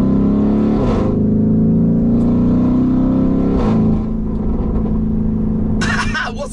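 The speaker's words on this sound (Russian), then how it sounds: "Едва коснувшись педали газа и слегка повысив обороты, сразу слышно звук." A Mansory Venatus Lamborghini Urus engine revving in second gear on an open road, a loud, deep rising drone heard from close by, steady and continuous before easing off.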